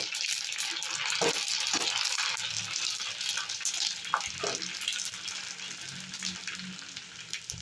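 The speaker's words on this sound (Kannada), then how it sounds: "ಇದನ್ನೀಗ ಫ್ರೈ ಮಾಡುವ." Ready-made papdi for pani puri frying in hot oil, a steady close sizzle that runs the whole time, with a few soft clinks and scrapes from the pan.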